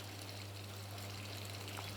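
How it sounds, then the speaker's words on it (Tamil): An IFB washing machine takes in water as it fills, a faint, steady trickling hiss over a low, constant hum from the machine. "இப்போ தண்ணி எடுக்குது"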